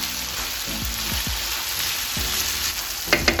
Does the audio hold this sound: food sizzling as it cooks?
yes